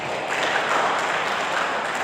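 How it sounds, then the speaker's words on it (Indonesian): Congregation applauding during a church service, a steady broadband wash of many hands clapping together, fairly close and sustained throughout with no voices over it. "Boleh tepuk tangan untuk Tuhan Yesus Kristus."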